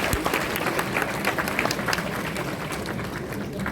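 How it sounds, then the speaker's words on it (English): Audience applause at a Madras High Court enrollment ceremony on Constitution Day: a dense, steady wash of many hands clapping in a large hall, sustained at even loudness throughout. "Should we get a clap for that?"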